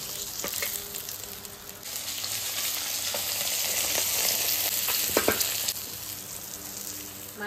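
Small puti fish from the Ajay river sizzling in hot oil in a wok, a steady crackling fry with occasional sharper spatters and stirring scrapes, close and fairly quiet, no talk.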